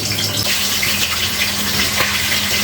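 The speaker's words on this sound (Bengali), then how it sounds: "বোয়াল মাছ ভাজতে নিলে অনেক সাবধানে ভাজতে হয় এত জোরে ফোটে তেল" Boal fish frying in hot oil gives a loud, close, continuous sizzle with crackling spatter that holds steady throughout.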